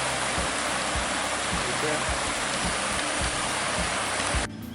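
The Barclay River, a small stream in the Victorian High Country, flows in a steady, full broadband rush close by, with no voices.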